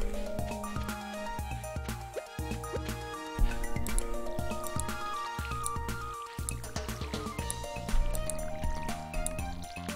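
Crops being watered in the Stardew Valley farming video game, a run of splashy watering-can pours repeating in quick succession over a layer of busy game music.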